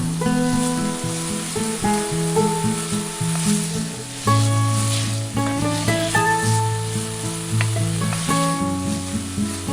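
Pre-cooked Maggi noodles are stirred into a sizzling veggie mixture in a miniature Indian kitchen setup, giving a steady, close frying hiss with light stirring scrapes under continuous melodic background music.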